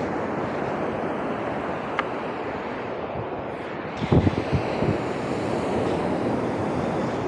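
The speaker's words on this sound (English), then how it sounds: "Look at the beautiful ocean and the waves." Ocean waves break continuously on a beach at Ocean City, Maryland, a loud steady wash of surf mixed with wind buffeting the microphone and a few brief thuds partway through.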